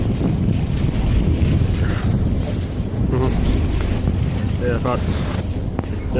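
A boat cruises at sea on a sightseeing trip, a loud steady rumble of engine and water with strong wind buffeting the microphone throughout and faint voices in the background.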